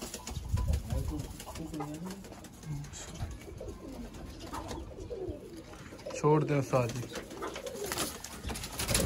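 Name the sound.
pigeons cooing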